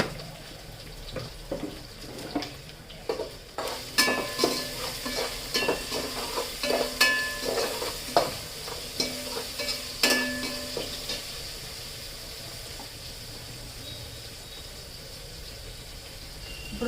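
Onions fry in a pan as they are cooked for Telangana-style bagara rice, with a steady sizzle under clattering, repeated spoon stirs and scrapes, busiest in the middle before settling into a quieter hiss.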